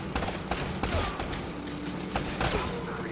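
Gunfire in the video game Uncharted: Drake's Fortune, a rapid run of sharp shots and bursts over a few seconds, fairly close, with some metallic clanks mixed in.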